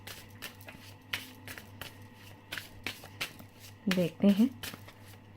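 A deck of tarot cards is shuffled and cards are drawn, giving soft papery rustles and brief snapping flicks close by, with someone talking throughout.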